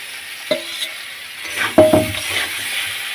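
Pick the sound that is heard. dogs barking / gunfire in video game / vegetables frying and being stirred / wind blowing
vegetables frying and being stirred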